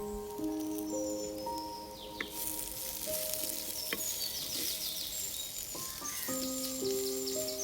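Tomatoes frying in a pan for a traditional Kerala fish curry, meen mulakittathu, with a steady sizzle through most of the clip and thin tonal chirps, like birds, in the background.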